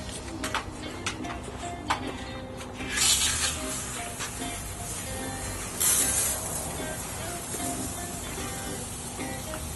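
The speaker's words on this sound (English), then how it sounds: "And then you just start spraying." A pump sprayer hisses steadily throughout, spraying insecticide, with louder bursts of spray around a few points, over a low background hum.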